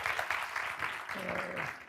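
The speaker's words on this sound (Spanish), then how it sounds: "por favor, un aplauso grande, Jorge Neri." Audience applause at a book presentation, a dense steady wash of clapping at moderate level with a voice briefly speaking over it midway.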